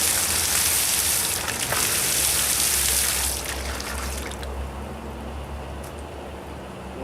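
Pressurized water gushes steadily with air bubbles mixed in, a loud continuous hissing rush that softens a little after the first few seconds, with no talking.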